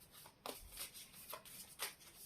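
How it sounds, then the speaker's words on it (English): Tarot cards being shuffled at a steady pace, giving a few soft, quick riffling bursts close by, faint and alone. "I've been shuffling at a particular pace."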